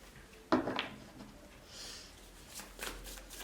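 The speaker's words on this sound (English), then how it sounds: "So I feel like I want to pull some extra cards." Tarot cards are shuffled up close: a sharp riffle and snap, then soft sliding shuffles, with no talk.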